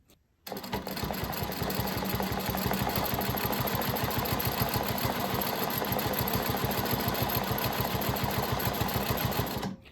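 A quilting machine stitches swirls with a fast, steady mechanical pulsing that starts abruptly, stays even throughout and cuts off at the end.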